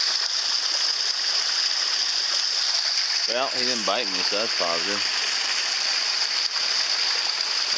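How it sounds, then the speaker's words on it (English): Mountain stream water trickling down over rocks near a high ridge trail in Grand Teton National Park, a steady broadband rushing wash throughout, with someone briefly speaking over it midway. "Got water trickling down next to me."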